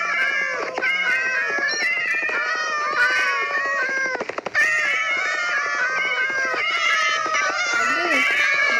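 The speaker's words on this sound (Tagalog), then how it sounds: "Dami namang pusa." Several cats meow and yowl almost nonstop, overlapping drawn-out cries close by and loud, some rising into caterwauls, with no one talking.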